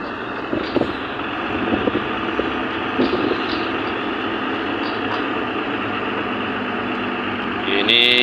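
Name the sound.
coal hauling trucks driving at mining project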